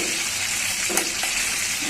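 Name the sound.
chicken frying in oil for biryani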